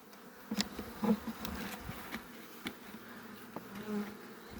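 Honeybees buzzing at an unusual beehive, a soft steady drone of many insects with louder individual bees passing close by now and then.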